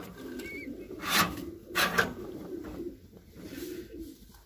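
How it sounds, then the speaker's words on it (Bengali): Pigeons in a home loft coo softly in a few low, rolling bursts over a faint background murmur, with brief higher chirps mixed in. "আর এর পাশে আছে আপনার আলাদিন লাইনের একটি কবুতর"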